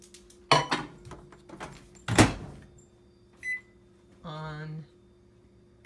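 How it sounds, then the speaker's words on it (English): A kitchen microwave oven running to heat a measuring cup of water, its steady hum rising briefly near the end amid clattering kitchen handling sounds and a person talking nearby. "And then put it in the microwave."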